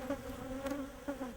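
Honeybees buzzing steadily around Langstroth-type hives in the Syrian mountains, a close, continuous drone with a couple of brief swells as bees pass near.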